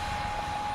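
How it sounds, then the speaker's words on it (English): A small FF-117 RC jet with a 50mm electric ducted fan flies overhead at a park, giving a steady, fairly loud high-pitched whine with a constant pitch through the short moment. "Yeah, for a little 50mm plane, it's flying pretty good, I think."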